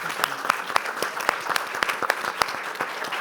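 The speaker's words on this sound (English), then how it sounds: "Give them a round of applause." At a tourism investment summit, the audience claps for a panel in a moderate, fairly sparse round, with a few sharper individual claps standing out above the steady patter.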